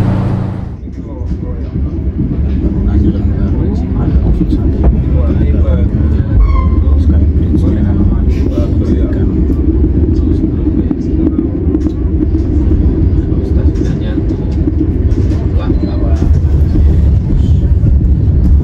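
Serayu economy train pulls away from Kiara Condong station in Bandung, a loud continuous low rumble with rattling carriage noise throughout, people talking over it.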